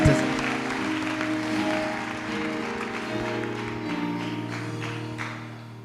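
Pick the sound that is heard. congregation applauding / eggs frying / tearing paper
congregation applauding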